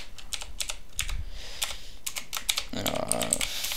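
Rapid clicking keystrokes on a computer keyboard, close and fairly loud, in uneven bursts of typing with short pauses between words.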